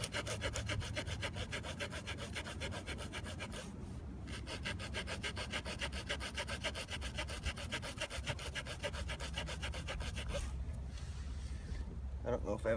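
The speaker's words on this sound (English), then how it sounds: "I make a few slices to get a pile of sawdust together." A Swiss Army knife saw cuts through dry wood in quick, rasping back-and-forth strokes, close and continuous with brief pauses.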